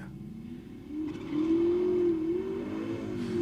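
Drag racing car, a manual G-Pack 355, making a pass down Sydney Dragway on a night event, its engine tone rising steadily in pitch and growing louder as it pulls away down the strip.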